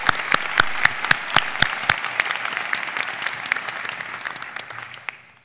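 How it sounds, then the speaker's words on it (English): Commencement audience at the 2018 Penn Law graduation applauding in a large venue. A few loud, close individual claps ring out at first, then the sound thins into a steady crowd clapping that fades toward the end. "Give yourselves another round of applause, please."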